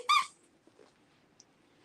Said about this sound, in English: Squeaky baby.